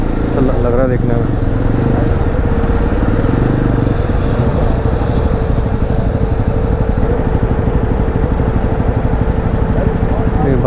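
Motorcycle engines of local bikers on the Pokhara–Kathmandu road in Nepal, near a landslide, rumble close by with a throbbing, pulsing idle that stays loud throughout, mixed with some speech.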